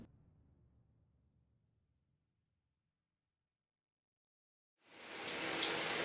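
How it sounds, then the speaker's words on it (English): Tap water rinses a detox scalp treatment out of natural hair: after near silence, a loud, steady rush of running water starts abruptly and continues to the end. "then just rinse it off thoroughly"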